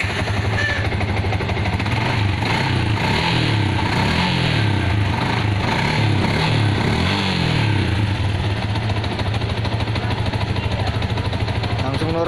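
A Yamaha Fino motorcycle engine, just reset after a fault, starts and runs with a steady rumble and repeated revving swells, close by and loud throughout.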